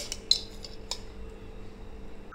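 A metal spoon adds two spoonfuls of ghee to a pot of dhokar dalna, giving a few quick, light clinks against the metal with no talking.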